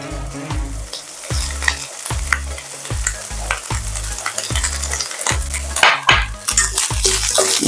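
Onions being stirred into ground beef frying in a pan after the fat is drained, loud regular scraping strokes of a utensil against the pan over a constant sizzle, close up with no talking.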